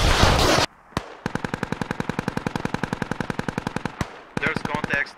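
Rocket artillery in the video game Steel Rain firing a rapid volley of about forty evenly spaced launches, loud and close, preceded and followed by brief bursts of noise.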